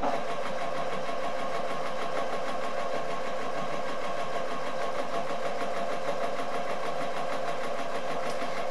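A sewing machine stitches the edge of a weighted eye mask, a continuous fast whirring hum at steady level throughout, close by and alone.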